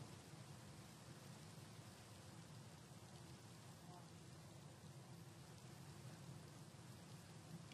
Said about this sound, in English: Oh, and it's raining.